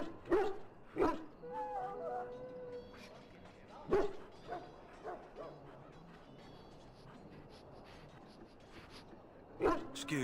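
Sick hounds in the Dragon Age: Origins video game give scattered sharp barks and yips with softer whimpers between them, moderately close, over low ambient game sound.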